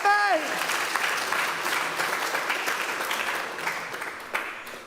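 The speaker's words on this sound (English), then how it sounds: "we got a big round of applause there for Willie Hutchinson" Sustained crowd applause at a boxing press conference for Nathaniel Collins vs Cristobal Lorente, with a voice at the very start and steady clapping holding throughout.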